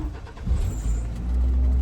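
Ford Ranger pickup truck engine turning over and catching, a brief deep rumble that swells and settles into a steady low idle, close and loud.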